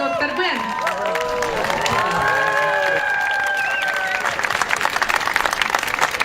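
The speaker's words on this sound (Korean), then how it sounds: "방 총장과 키맵의 역사를 잘 알고 있는 학생들이 그에게 아낌없는 박수를 보낸다" Students at KIMEP's 20th anniversary event applaud President Bang Chan-young as he appears: loud, dense clapping and cheering from a crowd, with a voice and tonal music rising over it before the applause continues alone.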